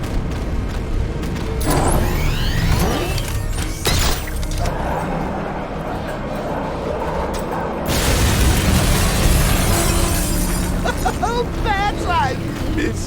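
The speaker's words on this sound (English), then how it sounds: "Warning, explosion imminent." Several booming blasts and shattering crashes burst out over busy, loud game noise in Batman: Arkham Knight at Ace Chemicals, with voices talking in between.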